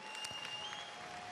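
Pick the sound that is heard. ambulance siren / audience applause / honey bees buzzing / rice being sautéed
audience applause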